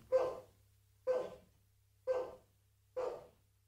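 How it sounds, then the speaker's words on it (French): Four evenly spaced dog barks about a second apart, moderately close and fairly quiet, with steady low hum between them and no talking. "Toi, quand tu entends ma voix, tu te mets à aboyer."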